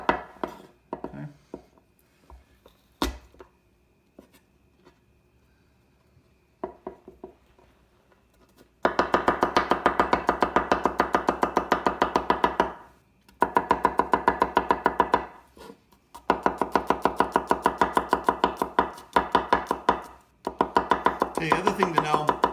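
A knife chops garlic on a cutting board in fast, rapid-fire bursts separated by short pauses, preceded by a few scattered clicks and taps, no speech.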